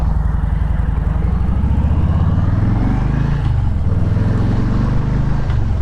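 A 2020 Harley-Davidson Low Rider with the 107 V-twin engine rumbles loudly and steadily while riding, with a deep low throb that shifts pitch slightly mid-ride, heard close with no talk.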